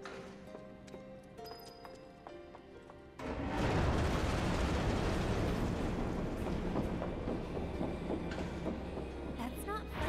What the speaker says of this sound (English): All aboard the graveyard train.